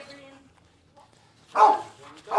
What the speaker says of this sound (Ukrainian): пес гавкає